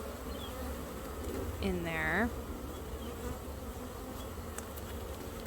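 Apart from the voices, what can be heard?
honeybees buzzing around a top bar hive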